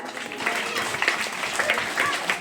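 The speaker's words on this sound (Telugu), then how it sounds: "క్లాప్స్ కొట్టాల గట్టిగా" An audience at a high school annual day in Katarupalli village, at Yogi Vemana Zilla Parishad High School, claps in a dense, sustained round of applause while a voice talks over it.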